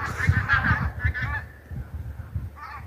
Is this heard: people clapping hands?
no